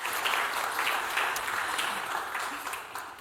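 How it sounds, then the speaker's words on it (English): Audience applause fills a Golden Bee Award 2025 ceremony hall, a steady dense wash of many hands clapping throughout, fairly loud and even, with no talking over it. "We should clap our hands for all of these inspiring stories."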